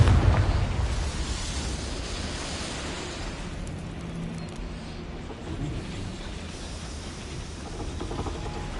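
A Confringo fire-blast spell from Hogwarts Legacy erupts in a loud opening boom, then rolls on as a broad, rumbling roar that slowly fades.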